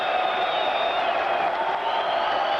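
A boxing crowd at the 1991 U.S. Armed Forces Boxing Championships at Kelly Air Force Base, applauding and cheering on their feet, a dense, steady roar of clapping and shouts.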